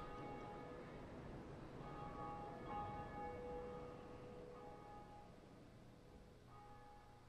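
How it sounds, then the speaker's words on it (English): Bells tolling in the Dark Souls video game at the Bell Gargoyles area, several resonant sustained strikes ringing over a steady low ambient rumble with no talking. "It's one of two bells we needed to ring."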